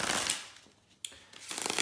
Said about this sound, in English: Let me shuffle the cards.